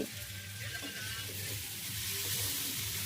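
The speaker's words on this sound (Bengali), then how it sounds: "ওখানে হচ্ছে আমার মা আলু ভাজছে" Potatoes fry in a pan at home, heard as a faint, continuous hiss of sizzling oil with a low background hum, and no clear voices over it.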